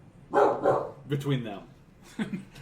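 A dog barks a few times in short bursts, mixed with overlapping speech-like voices.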